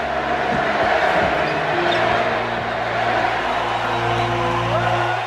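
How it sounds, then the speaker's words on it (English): A large arena crowd at a basketball game roars and cheers for Larry Bird in Portland, a dense, steady wall of sound with voices blending into a continuous loud ovation. "The crowd start cheering, Larry, Larry, Larry."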